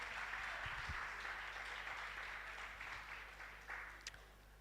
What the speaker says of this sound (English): Please, a huge round of applause for her.